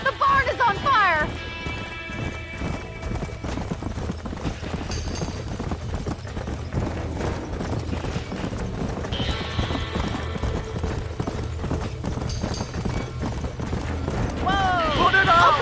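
Horses clip-clop and whinny near a burning barn in the Red Dead Redemption game, with hoofbeats running throughout, sharp neighs near the start and end, under shouting voices and a busy, dense backdrop.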